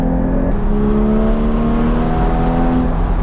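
A Porsche Cayman GT4 sports car engine drones loudly and steadily, its pitch climbing as it revs, heard from close by inside the vehicle.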